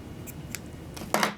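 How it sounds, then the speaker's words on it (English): Scissors snipping open a loop of yarn on a loop-yarn scarf, a few faint clicks followed by a sharper close cut, over a quiet room hum. "Carefully cut the last loop open"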